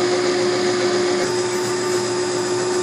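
Metal lathe cutting a bevel on the end of a drum lug, a loud, steady machine whine with a sharp constant tone over a broadband hiss, unbroken throughout and with no talking.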